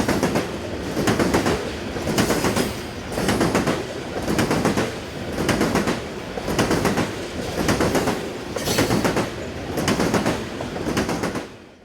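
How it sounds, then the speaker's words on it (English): A CSX coal train hauled by AC44CW and ES44AH locomotives rolls past on the Kanawha Subdivision in West Virginia, with a loud steady rumble and rhythmic clickety-clack of wheels over rail joints repeating about every 1.2 seconds. "unit coal locos were an AC44CW paired with a ballasted heavy variant ES44ACH"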